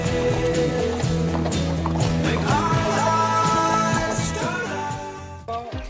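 Horse hooves clip-clop at a steady ride pace in the countryside around Villafranca de Córdoba, the rhythmic clopping fairly close and mixed with music-like tonal layers throughout, fading slightly near the end.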